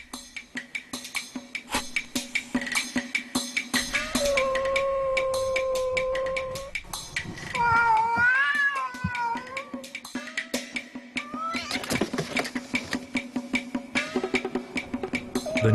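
Cats yowl and caterwaul in a drawn-out fight, long wavering howls rising and falling with sharp bursts, over a steady rhythmic background clatter.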